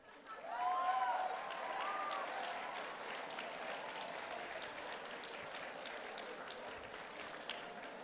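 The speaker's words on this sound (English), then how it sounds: "The guys are clapping up here." An audience of men claps in a large room, a burst of applause that swells at the start and then settles into steady, fairly distant clapping with faint crowd murmur.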